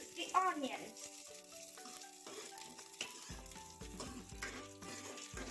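Onions fry in a pan while being stirred, with a soft sizzle and scattered scraping and clinking from the spoon that sit under a quiet musical background.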